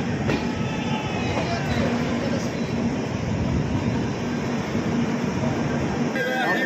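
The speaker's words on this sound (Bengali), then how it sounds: "আমাদের ট্রেন ঢুকে গেছে কৃষ্ণনগর সিটি জাংশন" The Sealdah–Jalpaiguri Road Humsafar Express rolls into Krishnanagar City Junction with a loud, steady rumble of wheels on track, rhythmic clacking and a brief wheel squeal near the end.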